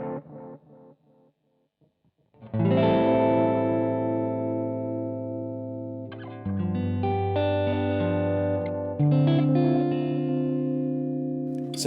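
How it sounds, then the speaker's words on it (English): Electric guitar through an analog delay, its notes ringing out and repeating with a progressively darker, softer tone, after a few quiet muted plucks; three sustained chords stack up with lingering echoes. "every time you get a repeat from an analog delay, it rolls more and more and more tone off"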